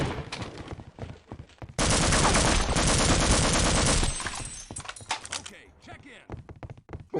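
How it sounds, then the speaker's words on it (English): Rapid automatic gunfire in Half-Life: Opposing Force, a sustained loud burst lasting a couple of seconds, framed by scattered single shots and clatter before and after. "What are you shooting me for?"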